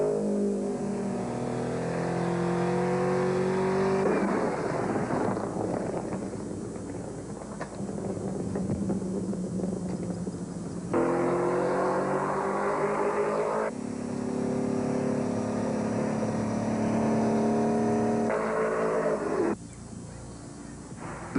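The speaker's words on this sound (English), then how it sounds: "here comes the Porsche, catching it up very well" A Porsche racing car laps a circuit, its engine note rising and falling through repeated gear changes, fairly close and loud, with a brief drop in sound as it passes and no voices over it.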